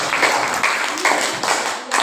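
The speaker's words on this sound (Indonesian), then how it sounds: "Beri tepuk tangan." A classroom audience applauding after a student physics presentation on AC circuits, giving steady, moderately loud clapping that continues for a couple of seconds with slight swells.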